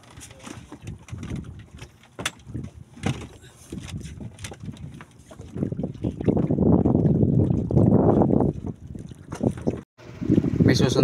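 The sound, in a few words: boat ride on the water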